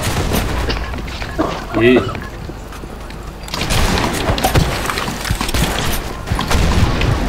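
Submachine gun fire rattles in a video game match in dense, rapid bursts, mixed with other gunfire and occasional voices of players talking.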